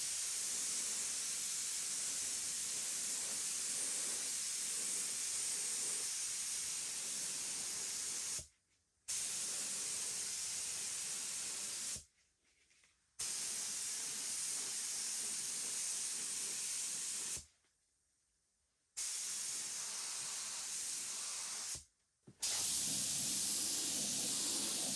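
A low-pressure spray gun run at about 10 psi lays paint onto car wheels, giving a steady loud hiss that cuts off in four short pauses between passes, with no talking.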